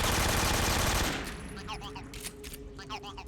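Rapid AK-47 automatic fire in the Metal Gear Solid 3 video game sounds close and loud for about a second, then stops abruptly. Quieter game ambience and chirping calls follow.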